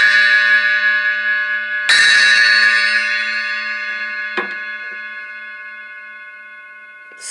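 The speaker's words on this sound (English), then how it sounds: "It's an HSC bell," An inverted Meinl HCS 8-inch bell cymbal is struck twice more while already ringing, each hit loud and bright, leaving a long, clear metallic ring that slowly fades.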